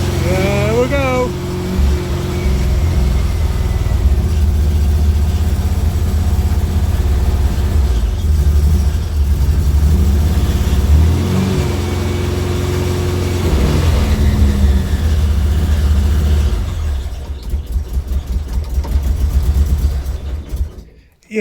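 An old VW Type 2 van's engine runs after ignition adjustments, rumbling roughly while the revs rise and fall unevenly for a long stretch before it falters and cuts out near the end. A voice may be heard talking over it.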